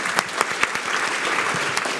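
An audience at a policy conversation on trade and industrial policy claps for a panel: a short, dense burst of many hands with a few sharper claps standing out, fairly close and steady throughout.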